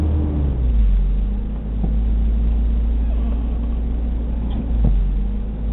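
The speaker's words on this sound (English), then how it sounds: "It actually makes the idle go up a little bit instead of down. But once the idle gets down lower, it'll just drop it completely down" A Toyota 22RE engine with an idle problem rumbles steadily at idle, its low drone swelling and sagging slightly in pitch a couple of times; no speech over it.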